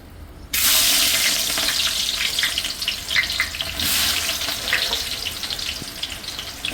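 Chopped onions tipped into hot oil in a large pot hiss at once into a loud, broad, steady sizzle that crackles on throughout with small pops, no voices.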